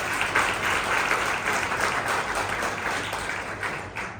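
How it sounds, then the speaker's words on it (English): An audience at a fundraising dinner for an autism charity applauds, a dense sustained clapping from many hands that carries steadily throughout before easing slightly toward the end. "I want us to give Zama in particular a round of applause"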